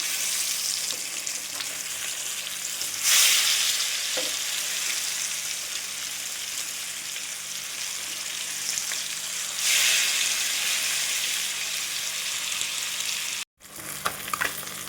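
Fish fries in hot oil with a continuous close sizzle, and two louder hissing bursts stand out when pieces are moved or turned. A brief dropout comes near the end.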